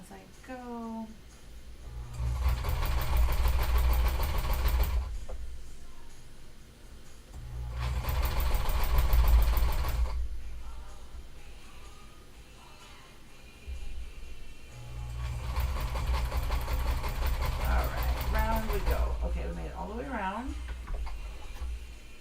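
A sewing machine bastes green trench coat pieces together in three long, loud bursts of rapid stitching, separated by quieter pauses where a voice speaks.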